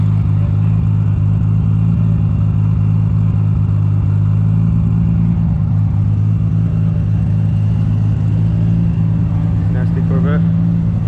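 Subaru WRX STI engine with aggressive camshafts revving and idling lopey, a steady low rumble close by with a few throttle blips toward the end, amid car-show background noise.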